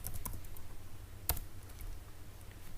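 Quiet computer keyboard clicks, a few scattered light taps and one sharper keystroke like Enter, in a still room with no voices.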